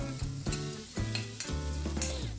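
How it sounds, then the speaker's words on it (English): Onions and garlic frying in a pan and stirred continuously, with a busy sizzle and repeated ringing scrapes of the utensil against the metal, close and fairly loud. "make space in the center and add finely cut garlic pieces. Stir everything properly."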